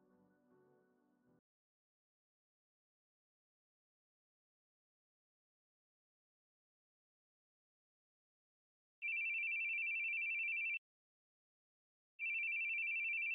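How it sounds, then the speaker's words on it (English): A phone rings in two long, loud electronic bursts with a brief pause between, heard alone after a faint stretch of quiet background sound and then silence. "it's your phone"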